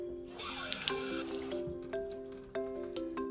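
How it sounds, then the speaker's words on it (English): Water from a running tap splashes and drips as hands are washed under it, close and fairly quiet, with shifting gurgles and splashes and no talking. "First, wash your hands."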